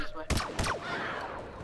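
Two loud, close shots burst in quick succession, then a lingering noisy wash of battle ambience in the video game Star Wars Battlefront on Tatooine.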